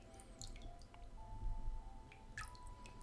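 A Sofirn IF24 multifunction flashlight, side light switched to maximum, is plunged into water, giving a few light drips and wet squishy splashes against a faint background hum.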